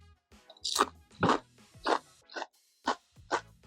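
Cajun-seasoned potato chips crunch loudly and close up in about six separate bites spaced roughly half a second apart, with near silence between them and no speech.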